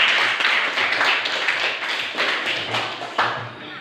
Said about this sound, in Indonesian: kita berikan tepuk tangan untuk kedua teman kita